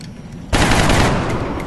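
Gunfire in the video game XCOM Long War: a quiet lull, then a sudden loud, sustained burst of shots that rings on until the end.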